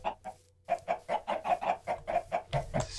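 Minecraft chickens cluck in a quick series of about a dozen short, evenly spaced clucks, clear and close against an otherwise quiet game world, with a brief gap near the start and a burst of other game noise at the end.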